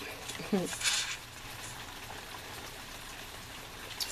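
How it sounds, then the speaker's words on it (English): Steady light rain from Hurricane Patricia patters continuously, with a brief louder splash near the start and soft background hiss throughout. "it's still raining, and it's not going to stop the whole weekend"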